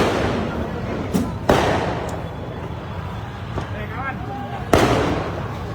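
Firecrackers launched from a protest crowd toward police during a clash, sharp loud bangs at intervals over a constant roar of crowd noise.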